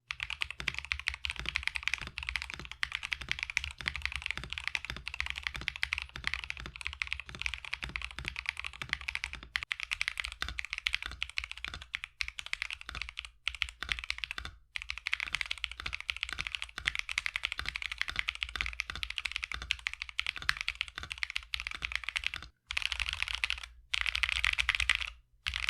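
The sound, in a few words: typing on a budget keyboard with tape and PE foam mods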